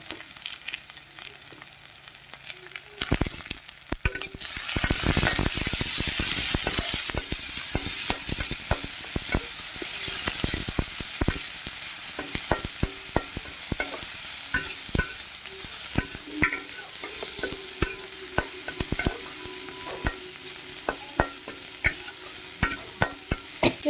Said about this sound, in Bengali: তো এগুলো হালকা হালকা আমার ফ্রাই করা হয়ে গিয়েছে